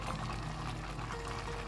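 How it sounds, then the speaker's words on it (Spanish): Water poured into a pot of beef and vegetable stew with celeriac, a steady broadband pour at close range with no voices. "Añadimos el agua."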